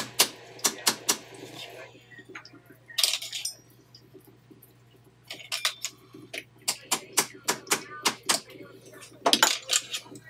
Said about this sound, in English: I'm going to take another little small hammer and just kind of tap these down